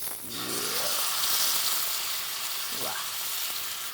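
Fish laid into a pan of hot oil and butter with curry leaves sizzles steadily, a continuous frying hiss with a faint scrape of utensils partway through.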